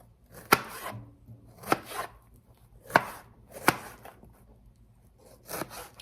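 A knife chopping strawberries and watermelon on a board for hwachae, with about six sharp, close thuds at an uneven pace and quiet gaps between them, and no talking.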